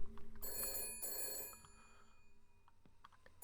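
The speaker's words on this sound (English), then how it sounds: "This phone's ringing." A telephone rings in the detective video game Shadows of Doubt, two bright electronic bursts with a brief gap between them, each followed by fainter ringing tails over a quiet game-world background.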